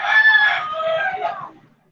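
A rooster crows once in a long, loud call that rises and then fades, with no other sound around it.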